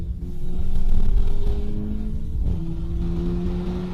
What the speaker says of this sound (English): driving the car while it's dry